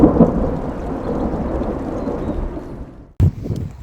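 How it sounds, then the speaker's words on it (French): A thunderstorm in France seen from outside during a storm chase sounds as a deep, continuous rumble of thunder mixed with rain. The roar fades, cuts out sharply, then a loud burst of thunder returns. "la gueule de l'orage vue de l'extérieur"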